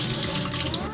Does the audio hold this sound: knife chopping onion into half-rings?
no